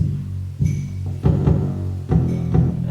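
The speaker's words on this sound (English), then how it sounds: "Then come this trap 808" A dry trap 808 bass with no effects, heavy low notes booming in a steady pattern of four hits, each swelling and sustaining before the next, played alone.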